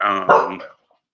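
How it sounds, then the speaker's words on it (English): A single sharp dog bark, close and loud, ends abruptly and leaves silence behind it. "That's my dog. He respects me."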